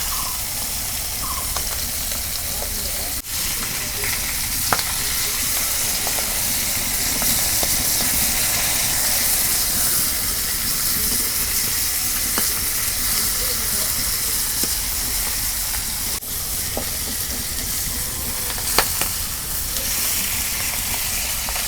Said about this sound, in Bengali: মাছ 1 পিঠ ভাজা হচ্ছে, এখন উল্টাই দিই